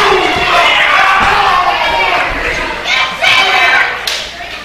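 At an Anarchy Wrestling show, a crowd cheers and shouts for Jacob Ashworth over a few thuds from the ring, with loud swells of noise rising and falling while a commentator's voice comes through.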